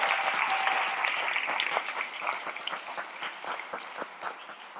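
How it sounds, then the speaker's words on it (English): Audience applause at a women's climate leadership event, dense clapping that starts full and gradually thins toward the end, with no talk over it. "Wait, clap again, please."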